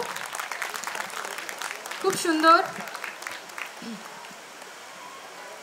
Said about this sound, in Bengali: জোরে হাততালি হয়ে যাক প্রিয়াঙ্কার জন্য